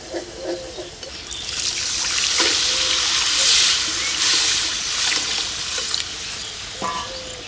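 Water is poured into a hot pan of sizzling fish curry paste, made for a catla fish and raw peanut curry cooked in a village kitchen. A steady splashing hiss and crackling frying run for several seconds, with a few soft clinks of a utensil.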